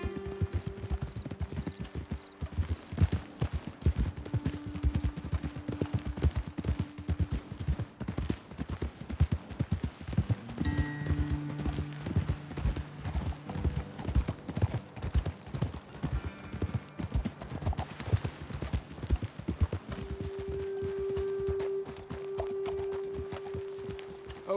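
Horses' hooves clip-clop steadily on a trail in Red Dead Redemption 2, a dense, continuous rhythm of close walking steps from several mounts, with occasional snorts and faint ambient tones, and no talking.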